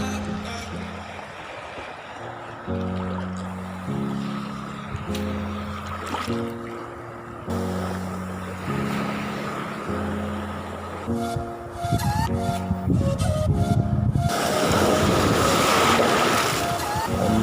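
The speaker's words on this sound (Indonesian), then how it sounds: "ombaknya lumayan besar." Large ocean waves breaking along a shore during casting fishing, a broad rushing surge that swells up loudly near the end, with music playing over most of it.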